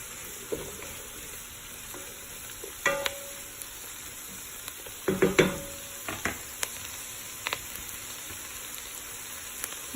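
Garlic fries in a pan for garlic soup, with a faint, steady sizzle beneath occasional clinks and scrapes of a utensil stirring, quiet and close.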